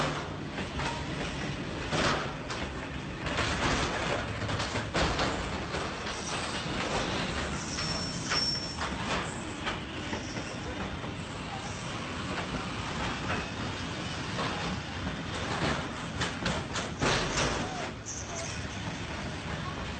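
A train striking and shoving a van parked on the tracks: continuous heavy rumbling and grinding with repeated metallic bangs and scraping bursts, loud and close, running throughout with no clear talk.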